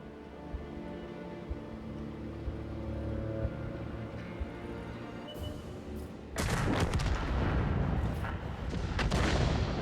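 The heavy gun of the Object 261 self-propelled artillery in a tank battle game on the Malinovka map, a quiet rumbling stretch broken by a loud, sustained blast and dense rumble with no talking.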